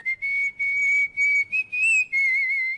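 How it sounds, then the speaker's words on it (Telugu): A person whistles a sustained tune in a series of clear, bright phrases with short gaps between them, close and alone with no talking. "ఏ విజిల్ అంత బాగుందా?"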